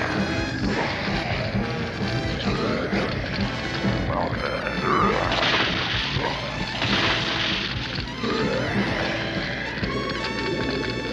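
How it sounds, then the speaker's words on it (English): Cartoon chaos from the 1978 Godzilla animated series as fire ignites an oil spill, a dense continuous roar of crashing, rumbling blast noise and roaring under a music score. "Godzilla's fire ignited the oil spill"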